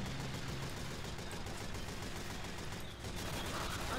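Gunfire from the video game Team Fortress 2 in Mann vs. Machine mode: a dense, continuous barrage of shots that sounds fairly distant and muted throughout.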